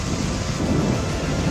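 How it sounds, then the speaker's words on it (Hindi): Strong wind from Cyclone Fengal on the Tamil Nadu coast roars as a steady, loud broadband rush with gusty low rumble throughout, no voices heard. "यहां 50 से 60 किलोमीटर प्रति घंटे की रफ्तार से हवा चल"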